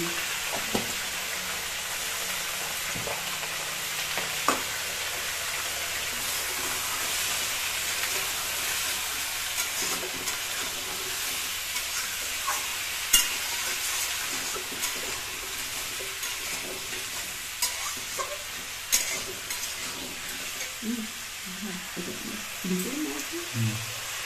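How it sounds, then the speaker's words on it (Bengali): Pumpkin and potato with salt and turmeric sautéing in a pan for a spicy prawn curry, giving a steady broad sizzle with occasional stirring scrapes and clicks, a voice talking intermittently over it. "দেখতে পাচ্ছেন আমাদের এখানে কুমড়ো আর আলুটা কষিয়ে নেবে আগে।"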